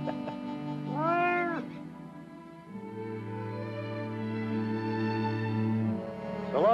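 A bobcat gives a couple of near meows, a short rising call followed by a longer, drawn-out wavering cry, with quiet between them and no speech.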